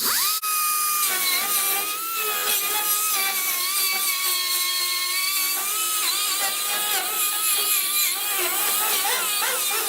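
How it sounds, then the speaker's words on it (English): A small-tip die grinder works inside the dented inner rear wheel well of a 1970 Buick Wildcat, giving a steady, loud high-pitched whine with slight pitch dips as it bears on the metal, running continuously throughout. "then I come in with the little tip die grinder and just clean all of this up in here"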